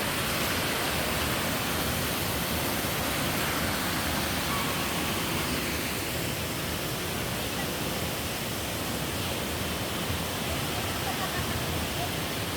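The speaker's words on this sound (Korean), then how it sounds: "잔잔한 물이 예전 시골에 흐르는 시냇물 같아서" A stream runs through the grounds of the Sejong National Arboretum, its water producing a steady, even rush that holds at a constant level throughout with no break or voices.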